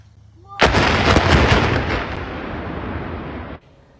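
Explosive demolition of the historic I-70 Rocheport Bridge in Missouri: a sudden loud blast followed by a long roaring, crackling rumble of collapse that holds steady for about three seconds before cutting off.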